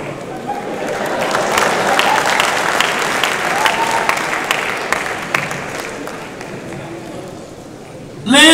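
A live audience at a Big Brother Naija singing performance applauds in a sustained burst of clapping with some cheering, then it thins out as a voice cuts in at the end.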